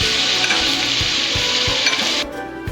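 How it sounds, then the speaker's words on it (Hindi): Close, steady sizzle of onion, ginger, garlic and green chili frying in oil, with the occasional clink of a utensil stirring the pan. "ये देखिए बस हमारी जो प्याज है, अदरक लहसुन और ग्रीन चिली जो है ये फ्राई हो चुकी है।"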